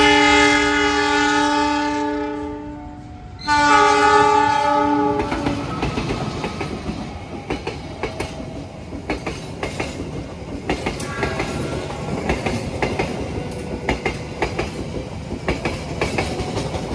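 The Argo Parahyangan passenger train from Bandung blares its horn loudly with a brief break, then rolls into the station with steady rhythmic clattering of wheels over rail joints.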